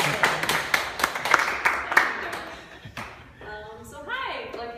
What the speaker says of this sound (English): Everyone give a round of applause for the HOV tickets.